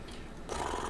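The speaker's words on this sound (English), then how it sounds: "Oh, she's purring." A soft, steady cat purr, a low rumbling hum that swells up partway through and continues close by.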